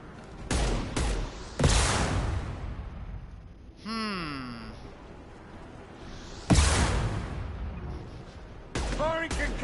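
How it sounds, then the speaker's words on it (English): Loud gunshots and a concussive shot crack out in Mass Effect 2, sharp bursts separated by pauses, with a warbling sci-fi effect between them and voices around the firing. "Firing concussive shot."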